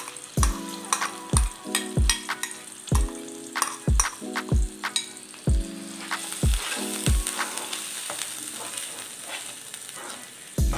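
Kharkol leaf paste frying in a pan, sizzling loudly while a utensil stirs and knocks against the pan in a regular rhythm of sharp taps.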